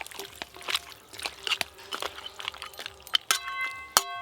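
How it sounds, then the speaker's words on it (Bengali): Water poured into a cooking pan holding fried bhetki fish heads and spices, an uneven splashing and trickling stream with small clinks, close and moderately loud. "জল,"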